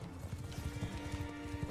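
Horse hooves gallop in the medieval battle game Mount & Blade II: Bannerlord, a fast, steady clip-clop of several mounts at close range. A low, continuous battle din plays underneath, and a horse briefly whinnies.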